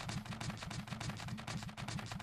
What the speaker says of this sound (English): And 6 is our aiming machine guns